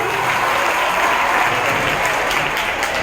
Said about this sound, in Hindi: इनके लिए जोरदार तालियां एक बार हो जाए बच्चों।